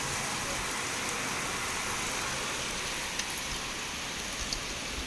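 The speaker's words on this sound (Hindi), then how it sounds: "बहुत तेज़ बारिश हो रही है" Heavy rain pours steadily in a dense, hissing wash, with a few faint clicks near the end.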